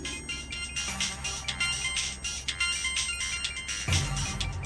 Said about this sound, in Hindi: ये तो मेरा फोन है।